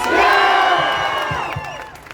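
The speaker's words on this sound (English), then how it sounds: "I hope as you all finish clapping" A large rally crowd cheers, whoops and shouts loudly and continuously, with some clapping, fading slightly toward the end.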